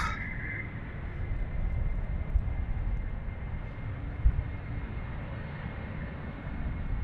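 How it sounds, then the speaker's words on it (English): An Embraer jet's engines roar steadily while spooling up for takeoff at Amsterdam Schiphol Airport, a broad, low rumble that holds at a constant distant level. "The Embraer is already spooling up."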